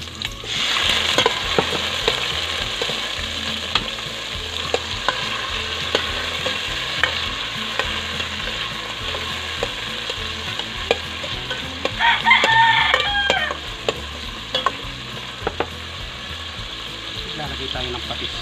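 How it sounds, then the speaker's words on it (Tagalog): Onions and garlic sautéing together in a pan, a constant close sizzle broken by frequent stirring clicks and scrapes, with a rooster crowing faintly in the background partway through. "Manggisa na tayo. Sabay na natin sibuyas at bawang."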